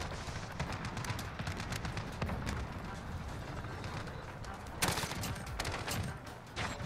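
Rapid gunfire from Modern Warfare gameplay with a RAM-7 rifle, dense bursts of shots crackling throughout, with a sharper louder burst near the end.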